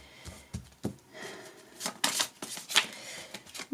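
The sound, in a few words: tarot cards being shuffled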